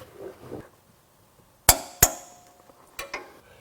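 A 19mm socket on an extension tightens the front lower shock bolt during a suspension install on a Lexus GX or Toyota 4Runner, heard as a few sharp metallic clanks and clinks at close range, each ringing briefly, with no talk.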